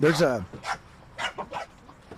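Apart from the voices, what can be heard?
two little dogs barking while playing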